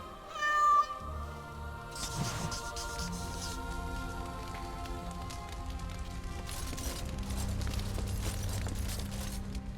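A cat meows in the fantasy role-playing game Dragon Age Origins Awakening, a clear short meow at the start followed by steady game music and ambient sound with no talking.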